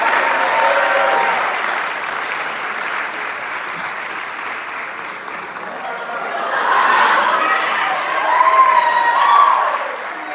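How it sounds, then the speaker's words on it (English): Sustained audience applause fills a hall at the Monmouth College Fraternity and Sorority Life Awards ceremony, steady throughout with a swell toward the end, mixed with light crowd murmurs and a few chuckles. "Let's give them a round of applause."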